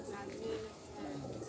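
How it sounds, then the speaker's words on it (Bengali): Pigeons at an old house coo softly in a short burst, low and murmuring, with a voice speaking over them. "দেখুন কি সুন্দর পায়রাগুলো উঠছে।"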